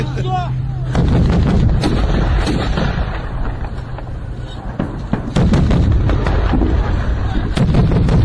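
Combat gunfire rings out in heavy bursts of rifle shots and booms, dense and loud throughout, over a rumbling background. Voices are heard faintly beneath the shooting.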